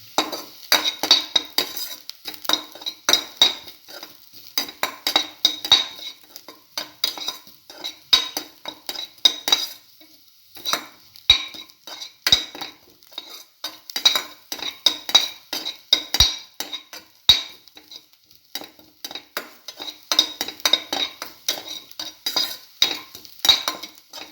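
Scrambled eggs with cinnamon stir-fried in a pan bring repeated close scrapes and clinks of a utensil against the pan in an irregular rhythm over a light sizzle, continuing throughout without speech.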